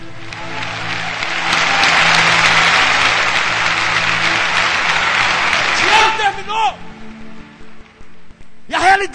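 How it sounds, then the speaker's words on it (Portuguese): A church congregation bursts into sustained, loud applause during a sermon, filling the hall for about six seconds before it breaks off and a preacher's voice returns. "Se é para aplaudir, aplaude melhor."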